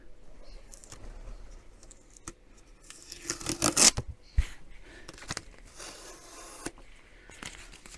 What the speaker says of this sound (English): Let's pull some of the tape off.